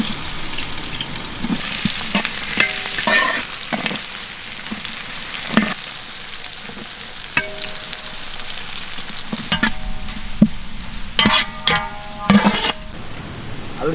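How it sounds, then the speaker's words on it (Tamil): Chopped onions sizzle and fry in hot oil in a village outdoor kitchen, with a steady crackle broken by several sharp clatters of stirring. "அழகான நறுக்கி வச்சு வெங்காயத்தை போட்டு வந்தாங்க."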